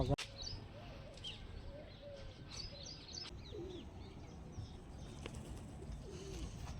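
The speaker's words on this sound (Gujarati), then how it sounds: "અહીંથી આ પક્ષીઓ અંદર છે જોઈ શકો છો" Birds, likely pigeons, call near a village lake, with soft cooing and scattered chirps over steady outdoor ambience, moderately distant and fairly faint throughout.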